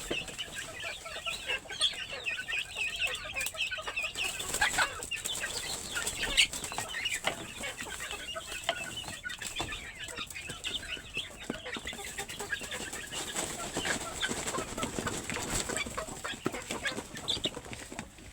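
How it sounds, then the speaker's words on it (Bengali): Free-ranging country chickens cluck and call after being let out to peck at feed, with busy, overlapping clucks, a rooster-like call and occasional wing flaps at close to moderate distance, with no talk. "আমি মুরগিগুলো ছেড়ে দিয়েছি। আমার মুরগিগুলো কিন্তু খাবারটা খাচ্ছে"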